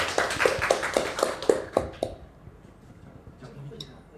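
An audience at a disposable ureteroscope launch event claps to welcome a speaker, a short run of distinct, fairly close hand claps that fades into quiet room tone.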